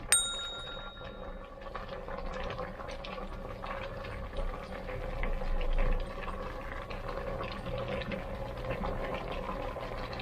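Vegetables including eggplant simmer together in a covered pot of boiling water for Ilocano dinengdeng, a steady close bubbling and steam hiss with a brief metallic clink at the start.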